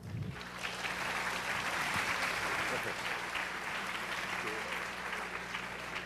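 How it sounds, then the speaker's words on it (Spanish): A conference audience gives a warm round of applause to welcome a speaker, a steady, moderately distant patter of many hands that carries on evenly with a low hum underneath. "démosle un fuerte aplauso,"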